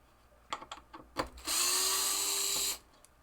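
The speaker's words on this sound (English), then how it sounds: "we're going to get these 2 screws out here." A power screwdriver whirs for about a second, backing screws out of a 1973 Williams Triple Action pinball playfield, preceded by a few close clicks and taps of handling.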